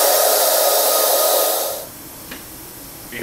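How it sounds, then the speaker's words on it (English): Air rushing out of a tire valve stem as the Schrader valve is removed, a loud steady close hiss lasting over a second before cutting off, followed by faint small clicks. "remove the Schrader valve from the valve stem"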